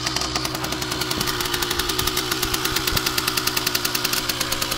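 A freshly started engine runs alone at a fast, even idle, its rapid knocking pulses repeating steadily close to the microphone.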